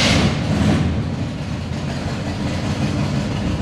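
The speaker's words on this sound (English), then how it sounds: "But for now, let's get a cold start." A Chevy K10 truck engine on a cold start settles into a loud, steady low rumble and idle that holds close and constant throughout, with no voices.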